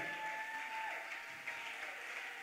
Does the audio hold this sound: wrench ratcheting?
no